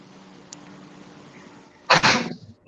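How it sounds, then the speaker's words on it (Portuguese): One sharp sneeze bursts out near the end, loud and close, after a stretch of faint room noise during a lecture. "Perdão pelo espirro."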